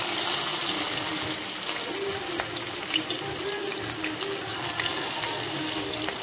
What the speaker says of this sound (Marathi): आता मी हे ना तळून घेते.